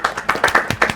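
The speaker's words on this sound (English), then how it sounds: "A round of applause." Brief burst of clapping from a small audience at a university quiz competition, several quick sharp claps packed into about a second, fairly loud and close.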